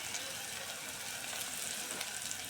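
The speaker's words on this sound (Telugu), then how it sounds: "కొంచెం వేయించుకోవాలి ఇది వేగిన తర్వాత పప్పు వేసుకుందాం" Seasoning fries in a pan for a bottle gourd and moong dal dish, giving a steady, fairly faint hissing sizzle that runs evenly throughout.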